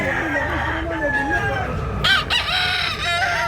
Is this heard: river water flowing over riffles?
no